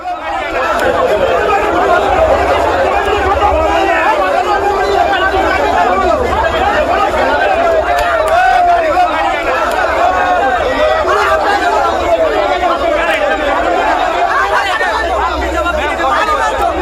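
An angry crowd gathers at a hospital, producing a dense, loud babble of many overlapping voices and shouts that carries on steadily without pause.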